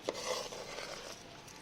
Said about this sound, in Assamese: এনেকৈ ভাজি থাকিব, কণ্টিনিউৱাছলি ভাজি থাকিব।